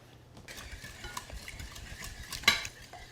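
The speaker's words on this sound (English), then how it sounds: "Give it another whisk." Orange juice being whisked into a sweet potato pone mixture in a bowl: quiet, close scraping and light clinking strokes, with one sharper clink near the end and no talking.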